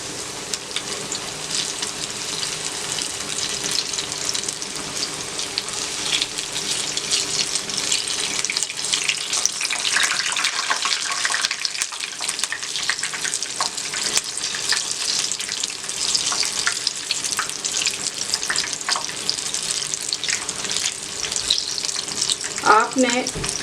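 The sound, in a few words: bread pakora frying on medium flame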